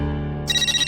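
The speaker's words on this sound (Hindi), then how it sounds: "वीडियो कॉल कर रहे हैं।" An incoming video call sets off a phone ringtone in a Hindi TV comedy scene, a bright repeating melodic chime that starts abruptly halfway through and pulses steadily over a low background hum.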